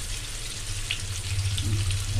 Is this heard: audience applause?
no